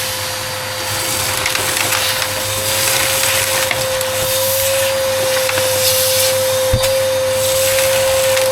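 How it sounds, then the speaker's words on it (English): A loud, steady vacuum cleaner drone runs throughout inside a tour bus, with a constant whine, and faint rubbing and knocking sounds come and go. "We've hoovered this up and it doesn't look as bad now."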